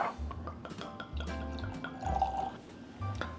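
Michter's rye whiskey, barrel strength and 10-year, pouring into glasses: faint liquid trickles and drips with soft clinks, quiet and close in a still room.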